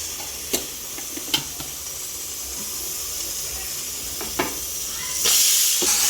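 Mutton curry masala with garam masala and spice powders sizzles steadily in a pan while a spoon stirs it, giving a few sharp scrapes and a hissing burst near the end.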